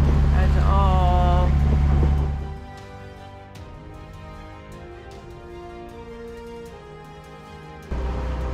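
A boat's engine drones steadily under heavy wind buffeting at sea in the Caribbean off Dominica, loud at first then settling into a lower, continuous hum with occasional knocks.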